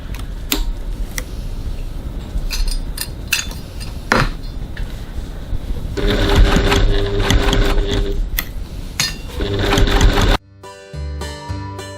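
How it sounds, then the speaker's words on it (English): A sewing machine basting a gusset to foam with its longest stitch: clattering, irregular bursts of stitching, then a louder stretch of steady whirring before an abrupt stop and faint mechanical ticking, close by with no talking. "So we're going to go over to the sewing machine and baste it on."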